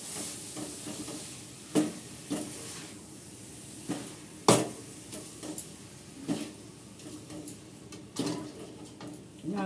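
Naru, a sweet mixture for Janmashtami, is stirred and fried in a pan: a low, steady sizzle broken by scattered clinks and scrapes of a spoon against the pan, fairly close.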